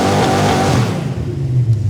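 Mystery Buick 350 V8 revving hard on an engine dyno, a loud, close roar that climbs then drops as it bounces off the rev limiter.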